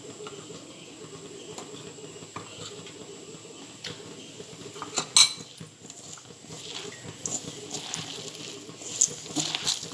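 Gram flour and chopped coriander worked together in a bowl by hand: a soft, steady patter and scraping close by, with a few sharper clinks, and no voices.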